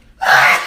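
A woman's sneeze in a looped sneezing fit: a short quiet intake, then one loud, breathy burst that holds for about half a second, close to the microphone.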